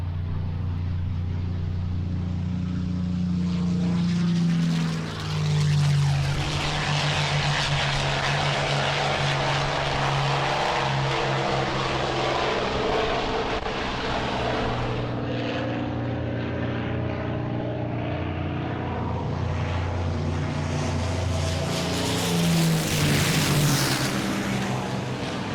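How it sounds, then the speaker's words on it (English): A World War II fighter nicknamed the Cadillac of the skies, a 60-year-old airframe flying a full aerobatic routine at Duxford in 2004, roars loudly and continuously overhead, its engine note rising and falling as it swoops through manoeuvres. "This Cadillac of the skies looks and sounds as good today as it did to the pilots who flew them in World War II"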